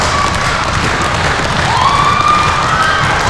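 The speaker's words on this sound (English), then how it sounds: "Crowd rallying behind him." A wrestling crowd at a live show cheers and rallies behind a wrestler, a dense, steady roar of voices with a few rising shouts cutting through.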